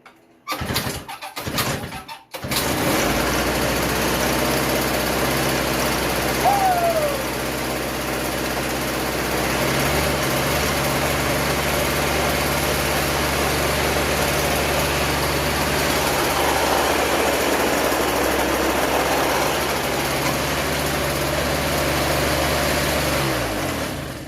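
A Toro S200 snow blower's small engine sputters through a few rough starting pops, then catches and runs at a steady, loud drone inside a garage.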